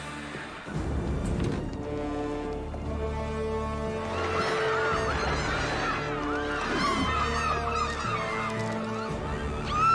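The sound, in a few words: seagulls calling in a cartoon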